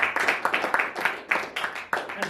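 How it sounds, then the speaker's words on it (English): A stand-up comedy crowd in Welland cheers and applauds for a comedy collective, with bursts of clapping and whoops rising and falling in close, lively waves. "Give us a cheer for the collective"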